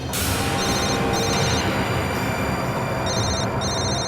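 A phone rings in repeated electronic trills, partly buried under a loud, steady rushing noise that fills the whole clip.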